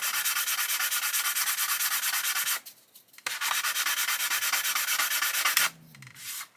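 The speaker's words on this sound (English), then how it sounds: "sanding away this leading edge." Rhythmic back-and-forth sanding on the leading edge of a plastic scale model, steady close rasping strokes that pause briefly midway and stop near the end, with no voices.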